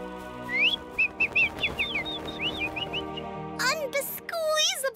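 Cartoon birds chirp and whistle in a run of short bright calls while following toward a feeder, then rising squawky calls close to the listener over a background music bed.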